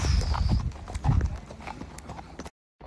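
Horse hooves clip-clop in a steady rhythm on an early-morning ride, fairly close and clear, with faint voices and ambient noise behind before a sudden cut to silence near the end.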